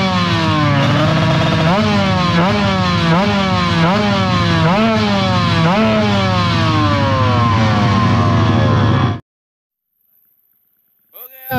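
Racing motorcycle engine at the Indonesian Drag World Championship drag race, revving loud and close in repeated rising sweeps for about nine seconds, then cutting off abruptly into near silence.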